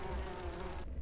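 Bees buzzing in the game Grim Fandango Remastered, a steady insect drone with a faint tone, continuous for about a second, then dropping abruptly near the end.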